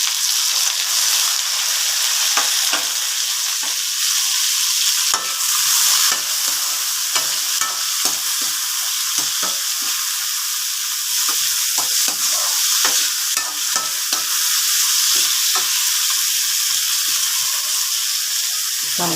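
Tomatoes sautéing in a pan for ginisang bangus, a loud continuous hiss of frying oil close up, punctuated by frequent clicks and scrapes of a spatula stirring, with no talking.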